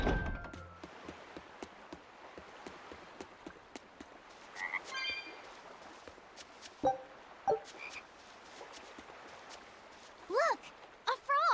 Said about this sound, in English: Look! A frog!